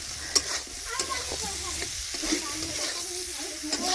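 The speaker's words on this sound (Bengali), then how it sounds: "মশলাটা ভালোভাবেই কষা হয়ে গেছে" Spice paste for a curry sizzles steadily in a pan while being stirred and fried, with a continuous close hiss broken by occasional scraping taps of the spoon.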